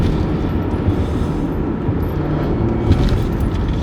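Porsche Macan T with a 2.0 turbocharged engine revving hard out of a roundabout toward its redline, a loud, steady engine drone filling the cabin throughout with no talk.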